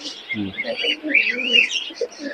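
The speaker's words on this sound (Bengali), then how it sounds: "কবুতর দুইটা দেখেন, চোখ দেখেন কত সুন্দর মাথা" Pigeons at a busy pigeon market in Khulna make a soft low coo and scattered bright chirps close by, with people talking in the background.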